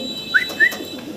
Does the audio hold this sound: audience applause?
no